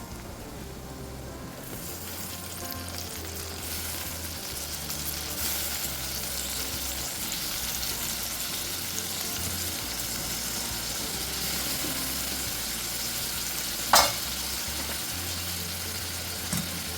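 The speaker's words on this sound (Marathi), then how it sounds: "आता यामध्ये घालूया ही भाजी, भोपळा आणि बटाटा" Pumpkin and potato pieces frying in oil on medium heat, a steady crackling sizzle throughout, with a brief clink of a utensil against the pan near the end.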